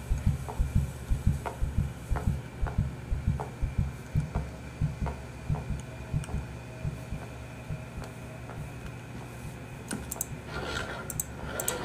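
Heartbeat sound effect in a horror video game, a steady, regular thumping pulse repeating throughout, fairly close and even, with faint clicking near the end.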